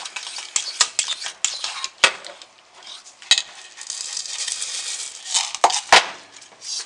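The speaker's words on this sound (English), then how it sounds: "Stirring it in." Stirring a liquid soap mixture in a pot, with scraping and clinking of a utensil against the pot and a few sharper knocks, a soft bubbling hiss underneath, close and moderately loud.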